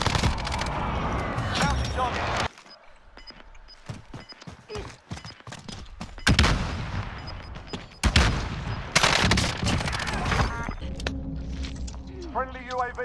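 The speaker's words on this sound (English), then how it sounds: "Be advised, friendly precision airstrike inbound." Video game combat with gunfire during an incoming precision airstrike: loud bursts of shots and booming impacts, broken by quieter gaps, with someone speaking and radio-style announcements over the action.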